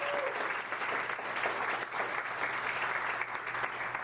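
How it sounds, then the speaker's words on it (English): Crowd at a political town hall inside New Jerusalem church giving a sustained round of applause, a thick, even roar of many hands clapping throughout. "Big round of applause for New Jerusalem"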